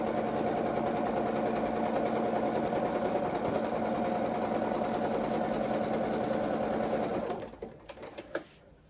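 A sewing machine stitching a coverall seam from one leg across to the other runs as a steady, fast mechanical whir for about seven seconds, then stops, leaving a few faint clicks and handling sounds.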